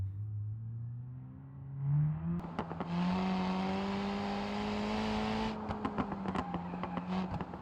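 A modified Dacia car's engine in the BeamNG driving game, idling low then revving up into a sustained rising drone with a gear shift, loud and close with some clicks and knocks.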